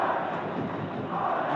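A football stadium crowd at a 2010 Brazilian Championship match between Goiás and Internacional gives off a steady, dense roar that builds into cheering, broad and fairly loud throughout with no clear pauses.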